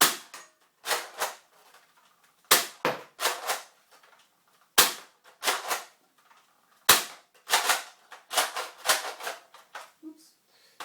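Modified Nerf Recon and Longstrike blaster with a new catch and spring, fired repeatedly: a series of sharp, close snapping shots in uneven bursts, each with a short rattling tail, separated by brief quiet gaps.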